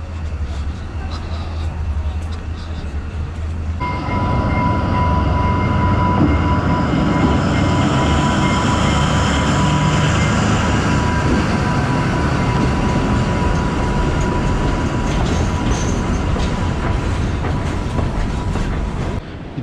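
A train runs at a railway station on the route from Cusco toward Machu Picchu in Peru: a loud, steady rumble and rolling clatter that builds after a few seconds and holds throughout, with a sustained high tone riding over it.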